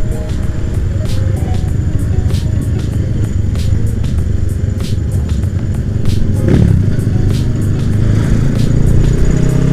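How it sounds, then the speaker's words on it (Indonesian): A car passes along a forest road, its steady engine rumble loud and close throughout, with intermittent clicks and clatter over the drone and no clear voices. "Wow, ada mobil, bro."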